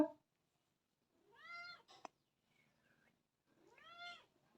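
Pet cat heard close and clear with two drawn-out meows a few seconds apart and a small chirp between them, in a quiet room.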